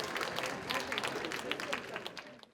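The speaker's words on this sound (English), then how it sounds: "Round of applause for her as well." Audience at a Kwanzaa celebration applauding a co-host, a short dense burst of clapping with some talk mixed in, fading out by the end.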